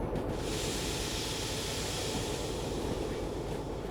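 A heavy freight train hauling excavators rolls along the track in Derail Valley, a steady, loud, low rumble with a constant hiss of wheels and carriages, uninterrupted and without voices.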